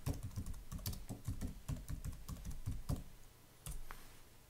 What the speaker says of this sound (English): I'm just going to type internet marketing in here.